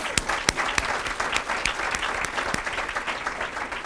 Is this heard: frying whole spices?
no